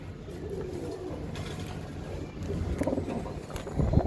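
Giribaz high-flyer pigeons give soft, low cooing calls over a steady wash of background noise, fairly faint and slightly rising toward the end, with no one speaking.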